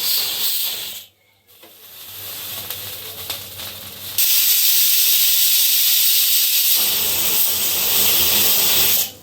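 A pressure cooker full of beef nehari with trotters releases steam in a loud, sustained hiss. It builds after a short quiet gap, holds steady for several seconds, then cuts off abruptly.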